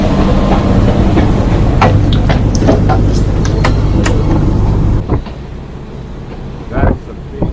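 Train at a large bus and train station in Thailand, heard as a loud steady rumble with clacking and hissing for about five seconds before dropping to a quieter, thinner background of scattered clanks and noise.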